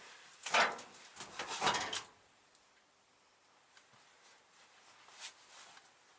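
A door creaks and clunks open in two close bursts, followed by a quiet room with a few faint ticks.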